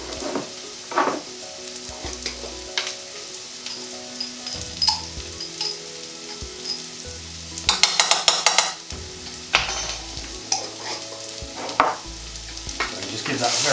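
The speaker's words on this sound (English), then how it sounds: "And just give that a very quick stir." Vegan cottage pie filling with rosemary and thyme sizzling in a pan, a steady close fry broken by repeated scraping stirs and a burst of rapid clattering strokes.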